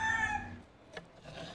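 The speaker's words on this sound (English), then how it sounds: "those famous Ybor chickens" A rooster crows once at middle distance in Ybor City, its harmonic call fading quickly, followed by faint outdoor background noise.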